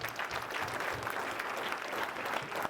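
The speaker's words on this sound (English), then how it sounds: "Give her a round of applause." An audience at a high-ticket sales closer competition breaks into a dense, steady round of applause that fills the whole stretch without letting up.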